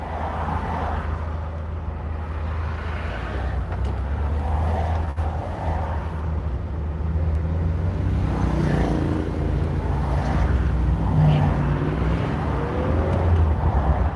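Car in stop-and-go traffic, heard from inside as a continuous low engine and road drone that swells slightly as it speeds up, with no talking.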